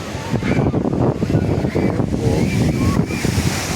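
Steady rushing surf and ocean water churning and surging into a blowhole at Kiama, New South Wales, with wind buffeting the microphone throughout and a faint voice somewhere in the mix.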